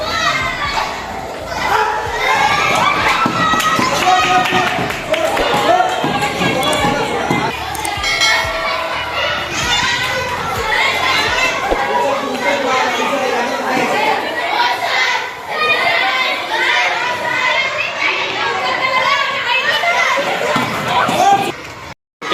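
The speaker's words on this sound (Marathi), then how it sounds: "गर्दी आहे कबड्डी बघण्यासाठी. हे सगळे कबड्डी बघण्यासाठी थांबलेले आहेत." A dense crowd of school children shouts and chatters loudly and continuously around a school kabaddi match, excited voices overlapping without pause.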